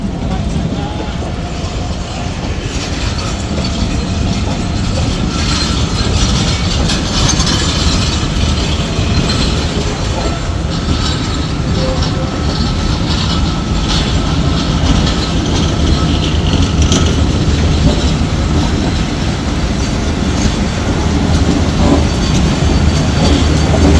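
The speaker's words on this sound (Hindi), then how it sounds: "ये ट्रेन जा रही है 103 सुपर रेल कार" The 103 Super Rail Car passenger train runs past at Lahore railway station, a steady, loud rumble of wagons with faint clickety-clack lasting throughout, with no clear break or fade.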